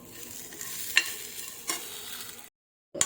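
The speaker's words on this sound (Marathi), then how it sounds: "हे आता आपल्याला छान असं परतवून घ्यायचं आहे, छान ते पूर्णपणे नरम पडेपर्यंत" Kharda sautéing in a pan with a soft sizzle and a few sharp scrapes of a spoon stirring, then a brief silence and one more scrape.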